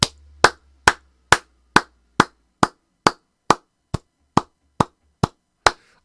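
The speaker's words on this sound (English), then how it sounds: "I give you my hearty applause." Hand clapping heard close and loud: fourteen sharp, evenly spaced single claps in a slow, deliberate rhythm, each standing alone against near silence.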